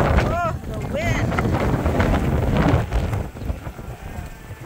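Strong wind buffets outdoors on a sheep farm, roaring across the microphone with broad gusty rumble; brief bleats rise near the start, and the gusts ease slightly toward the end.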